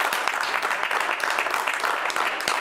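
An audience claps together in a dense, steady round of applause, lively and fairly close, with a faint voice underneath.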